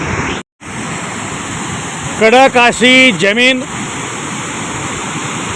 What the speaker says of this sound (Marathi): या ठिकाणी हा सहस्त्रकुंड धबधबा वाहताना दिसत आहे